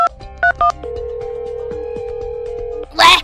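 A phone call is placed: a few short dialing beeps, then a long steady ringback tone lasting about two seconds, followed by a voice answering.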